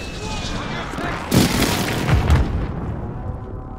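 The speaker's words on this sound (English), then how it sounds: "Friendly airstrike on the way" Airstrike explosions in the video game Call of Duty: Modern Warfare 2 boom as a sudden broadband blast, followed by a second rumbling burst, over constant game ambience and a low talking voice.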